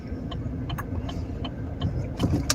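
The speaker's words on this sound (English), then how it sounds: "I'm gonna leave it running because I don't want that shit to melt" A parked car's engine left idling, a steady low rumble running throughout with faint clicks and light rustling on top, close and continuous.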